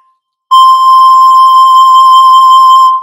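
Ocarina phone app playing a steady pure whistle-like tone, with a gentle vibrato wavering from tilting the phone; a single loud held note starting abruptly after a brief silence and lasting about two and a half seconds.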